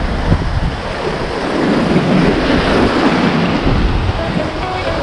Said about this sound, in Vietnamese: Cái đăng này sóng nó quá là lớn luôn các bạn.